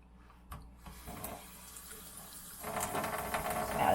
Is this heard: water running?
yes